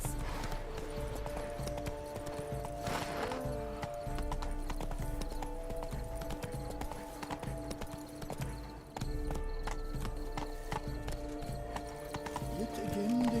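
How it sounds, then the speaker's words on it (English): Horse hooves clip-clop steadily on the ground in The Witcher 3, a continuous rhythmic trot under game music and occasional character voices. "Be better off on horseback."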